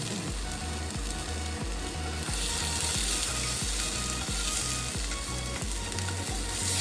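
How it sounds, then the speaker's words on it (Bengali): Shrimp dropped into a dry pan with no oil sizzle steadily and loudly up close, with a constant crackling hiss and rhythmic low scraping pulses as they are stirred. "চিংড়ি মাছ দিলাম উইদাউট তেল, কোনো তেল লাগবে না, খালি কড়াইয়ে চিংড়ি মাছ"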